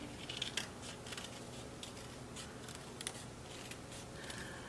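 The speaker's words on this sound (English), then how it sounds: "you're going to fold this in half and you're going to cut the head out" Scissors snip through folded paper with a series of soft, close cuts at an irregular pace, quiet against a faint room background.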